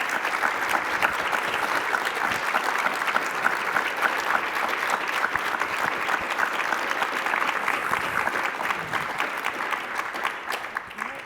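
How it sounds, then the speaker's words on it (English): A conference audience claps steadily for a journalist panel on climate, sustained dense applause from a crowd in a hall, fading slightly at the end. "Let's give them another round of applause."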